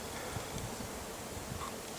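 A soft, continuous buzz of insects hums over a faint rustling background, steady and fairly close.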